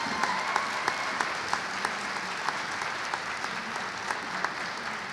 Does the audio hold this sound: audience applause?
yes